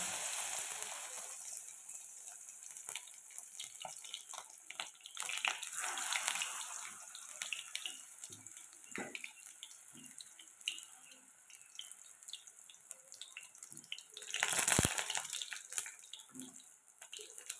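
Pumpkin-flower chops coated in rice-flour batter sizzle in a small kadai, a faint crackling hiss with scattered pops and spits, swelling briefly near the end as more oil bubbles.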